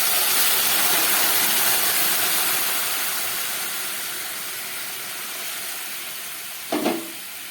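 Hot water goes into oily spice paste frying with eggplant for a Bengali tangra fish curry, giving a steady, loud broadband hiss that slowly eases, then a short sharp burst near the end.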